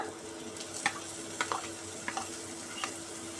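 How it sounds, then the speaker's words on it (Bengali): Tangra fish spice paste of turmeric, Kashmiri chili, ginger paste and tomato paste being sautéed in oil, giving a steady soft sizzle with a few sharp ticks of a spoon stirring the pan, no talk. "দিয়ে খুব ভালো করে মশলাটা কষিয়ে নেব"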